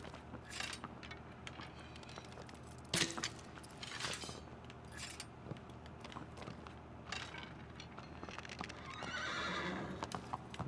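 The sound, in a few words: horse neighing and hooves in video game Shadow of the Colossus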